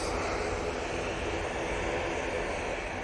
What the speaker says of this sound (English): there is a Jet2 that looks like it's going to turn and burn